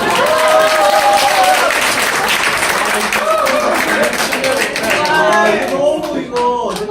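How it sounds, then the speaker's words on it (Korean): Audience applause at a Korean business presentation, sustained clapping from a crowd over about seven seconds with voices chattering and calling out on top. "박수 한번!"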